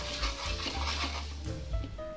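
Cumin, finely chopped green chili, turmeric and salt sizzle in hot oil and are stirred, producing a soft, steady frying hiss with faint scraping, fairly quiet.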